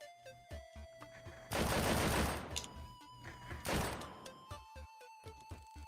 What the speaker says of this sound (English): You have to shoot all 6 bullets.